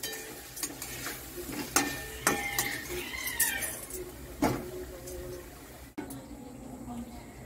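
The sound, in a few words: stirring a curry in a pot while cooking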